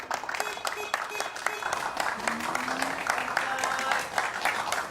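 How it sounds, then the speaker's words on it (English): Government workers applauding in Japan as a magnesium and salt water powered car completes its 100-kilometre drive; moderate, scattered clapping heard somewhat distant, with voices talking over it. "Government workers who supported this project applaud as Kohama meets"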